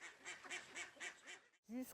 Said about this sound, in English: My ducks make noise and this bothers the neighbour.